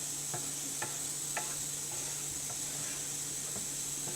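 Paneer and onion gravy stirred in a low-flame pan with a steady soft sizzle, a spoon scraping the pan in several light, evenly spaced clinks.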